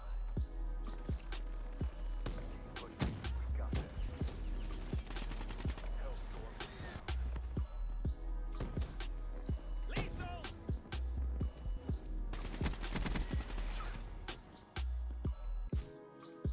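Rapid gunfire in the futuristic shooter Call of Duty Black Ops 3: loud automatic bursts and repeated sharp shots crack throughout the whole stretch. Game engine noise and effects sit beneath the firing, with a voice talking over it.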